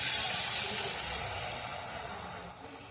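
A splash of water hits hot, oil-separated onion masala for a katla kaliya curry, producing a loud steam hiss that slowly fades over a few seconds, close up with no voices.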